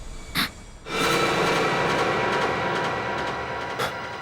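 A train rumbles and hisses loudly and continuously after a brief quiet start, a broad roaring wash close by.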